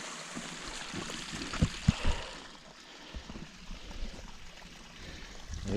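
A stream runs over its bed in a moorland gully, a steady close rushing babble with a few louder knocks and splashes and no talk.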